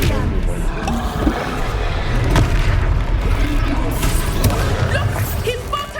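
A booming spell blast in a Hogwarts wizarding video game, a dense low rumble with a heavy impact, layered under game music, effects and voices.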